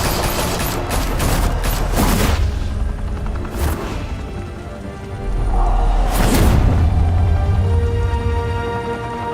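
Sustained gunfire rattles through a Telltale Batman video game scene, with loud booming volleys around the start and again near the middle, continuous heavy rumble throughout, no talk.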